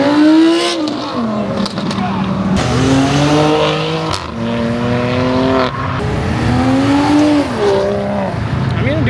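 A BMW car revs hard at a late-night car meet, loud rising and falling engine sweeps repeating several times with brief tire squeal, close by and mostly alone.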